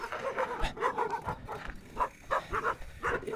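Several dogs barking and yipping on a hiking trail, with short repeated barks in irregular bursts at moderate distance over faint background noise.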